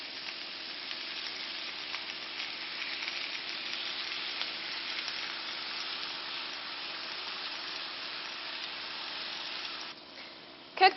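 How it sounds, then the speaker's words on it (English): Chicken skewers frying in a pan give off a steady, loud, crackling sizzle that holds evenly throughout, then dips near the end followed by a brief clatter. "You should hear that nice loud sizzling noise that we like so much."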